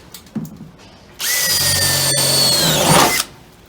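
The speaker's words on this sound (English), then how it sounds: "Afterwards, I use the 25/64 bit. I punch those holes out." A power drill with a 25/64 bit punches out holes during a Ford Transit bed installation, a loud steady whine lasting about two seconds that then cuts off, with a few handling knocks before it starts.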